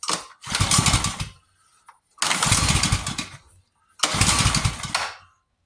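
Rebuilt pressure washer engine being pull-started three times. Each pull brings a loud, close roar that runs for about a second before dying, with short quiet gaps between attempts.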